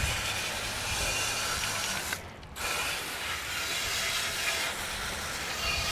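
Degreaser sprays from an aerosol can onto a Suzuki T350 motorcycle in a steady, loud hissing burst that runs almost without a break, pausing only briefly partway through.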